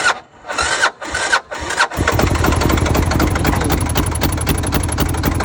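Several short cranking bursts from a Kawasaki KLR650 diesel dirt bike with an HDT diesel engine, then the engine catches and settles into a steady, loud, clattering idle nearby.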